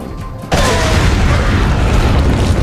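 Grenade blast in Resident Evil 4, a sudden loud boom after a quiet moment, leaving a dense roaring rumble that fills the rest of the clip.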